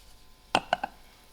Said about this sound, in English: the mustard seeds are popping